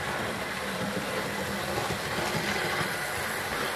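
A Hornby model tender-driven steam locomotive running on a layout, giving a steady, faint whirring hum from its motor with no clear breaks.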